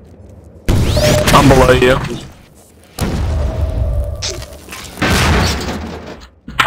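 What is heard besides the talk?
RPG rocket explosions in Half-Life 2 Deathmatch video game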